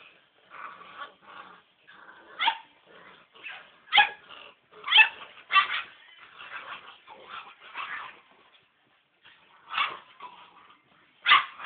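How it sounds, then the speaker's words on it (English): Several puppies yip, bark and whimper in high-pitched bursts, irregular and fairly close, with short quiet gaps between. "What are all those puppies doing?"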